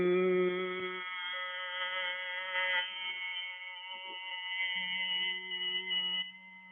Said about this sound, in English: And you breathe out with a Bhramri sound like this.